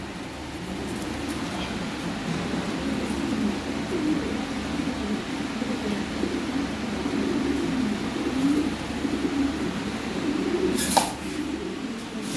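Imported ringed Lahori pigeons coo and murmur in a loft in a steady, fairly faint chorus. A brief sharp clatter stands out near the end.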